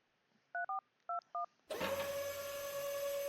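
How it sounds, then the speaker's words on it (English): Four crisp dual-tone beeps from a telephone keypad, in two quick pairs, followed by a steady loud dial tone with background hum; no voices. "I'll dial the 4 digits from the note."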